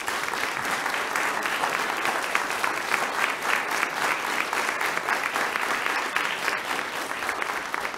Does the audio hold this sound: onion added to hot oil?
no